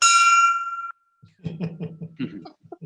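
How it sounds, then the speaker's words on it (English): A ship's or submarine bell made for Astute-class subs is struck once at an awards ceremony, ringing loud and bright with a sustained metallic tone that decays over about a second, followed by someone talking. "We have a ship's bell or a submarine bell from the astute subs, which we produce here"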